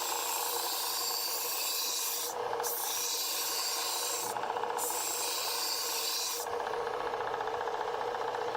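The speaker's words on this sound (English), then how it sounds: "I'm sharpening on the curved side" Custom kitchen knife being sharpened along its curved edge, giving a steady, close abrasive rasping that runs continuously and pauses briefly twice, with no talking.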